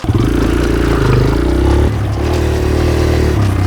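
A motorcycle engine runs loudly up close, rumbling and revving in two bursts with a brief dip between them.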